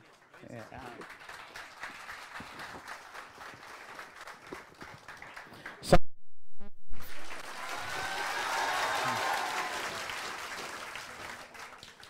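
A stage celebration audience breaks into applause, a dense patter of clapping that rises after a brief pause and swells loudly, with someone talking over the earlier part.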